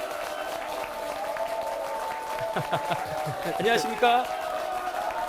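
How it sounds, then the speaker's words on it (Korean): Applause and cheering at an election campaign camp on the night of the 21st National Assembly election count in North Chungcheong; a steady crowd roar runs throughout while a voice talks over it, with the noise swelling near the end. "지금 뭐 워낙 박수 소리가 커서 안 들리시는 것 같은데요"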